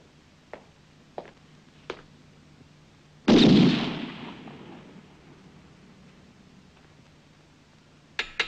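A firing squad's rifle volley in a 1969 film bursts out as one loud, sharp crack with a long decaying echo, preceded by a few faint ticks and followed by quieter clicks.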